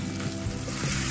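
Tomato puree and masala-coated chicken sizzle in a karahi for Lahori chicken curry, a loud, dense, continuous frying hiss heard up close, with no voices.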